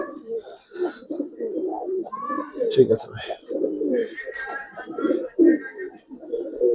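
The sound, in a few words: pigeons cooing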